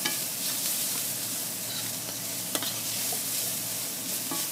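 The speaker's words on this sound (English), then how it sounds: "You only want to cook garlic for about 1 minute just so that the oils begin to release." Garlic sizzling in a hot pan on the way to a shrimp and grits dish, a close, bright, steady hiss with a few light clicks from stirring and no talking.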